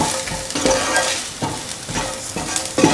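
Salt stirred into lemon chickpea rice frying in a pan, loud scraping strokes repeating every half second or so over a steady sizzle, close and without speech.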